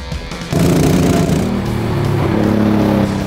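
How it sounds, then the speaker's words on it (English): Sports car pulling up with a sudden loud engine roar that kicks in after a brief quiet moment and holds a steady, close, rumbling growl. "And a sports car came."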